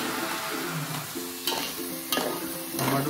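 Chopped tomatoes frying in a pan with garlic for a spicy village-style chicken curry, a steady close sizzle with scraping stir strokes, while a mixer hums in the background.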